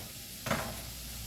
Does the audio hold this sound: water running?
no